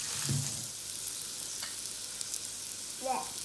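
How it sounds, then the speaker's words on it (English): Picanha steaks sizzling with butter on a hot salt block, a faint steady frying hiss with a couple of brief clatters or stirring touches, no talk. "They've got a bit more of a sizzle than they did last time."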